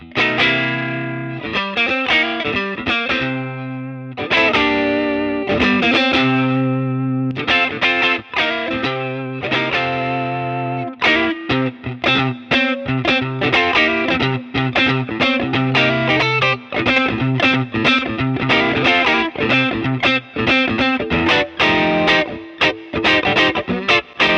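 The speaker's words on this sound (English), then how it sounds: "the first thing you're going to hear is the Minotaur model in the HX, which is like a clone" Electric guitar driven through the Minotaur overdrive model on a Line 6 HX Effects unit, playing a loud, continuous run of distorted chords and picked notes with brief gaps, alone without talk.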